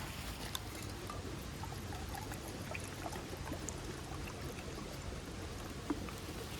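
Water pours into a small titanium pot outdoors on a hike, a steady, faint trickling stream running without pause.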